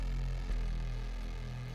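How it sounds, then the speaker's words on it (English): Reese bass patch built in Serum with its detune pulled back, a thick low sustained drone with a narrower, less spread stereo image, playing steadily on its own with a small articulation midway. "You can tell it's still doing the Reese thing"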